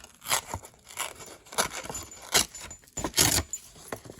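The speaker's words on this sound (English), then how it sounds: "I just rip this down." Paper is ripped in several quick, crackly bursts, loud and close, with short pauses between tears and no talking.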